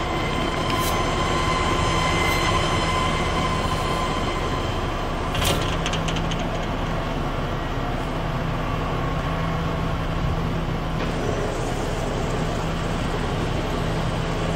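A Kitamura MyCenter HX1000i horizontal machining center runs its spindle at 500 RPM in low range, giving a steady mechanical hum and whine with occasional sharp clicks and clanks.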